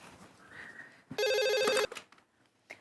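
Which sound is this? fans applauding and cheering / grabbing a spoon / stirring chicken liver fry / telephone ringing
telephone ringing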